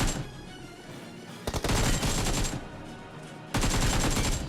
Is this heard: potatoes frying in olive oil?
no